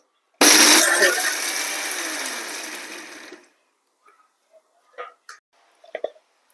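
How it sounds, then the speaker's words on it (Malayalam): A kitchen mixer jar grinds dry spice powders for homemade Maggi masala in one loud burst of about three seconds that winds down, followed by a few faint clinks and handling sounds. "ഇത് നമ്മൾക്ക് ജാറ് മൂടി വെച്ച് നമുക്ക് നല്ലോണം ഒന്ന് പൊടിച്ചെടുക്കാം"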